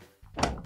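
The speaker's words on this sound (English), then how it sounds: "slide that in, and then close up the door" A Maytag dishwasher door swung shut after the bottom rack is slid back in, a single close, dull thunk landing in a fraction of a second.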